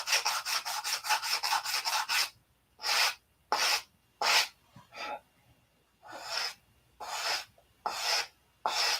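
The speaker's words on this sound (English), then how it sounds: "You just take sandpaper and square it up." Sandpaper rubs against wood to square it up, first in a quick run of rapid rhythmic strokes, then in slower separate scrubbing passes with short pauses between, close and clear.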